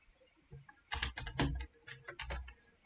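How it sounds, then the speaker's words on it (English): Typing on a computer keyboard while entering values into Python code, a quick burst of close, crisp key clicks in two short clusters, with a quiet pause at the start. "so I'll type Alice"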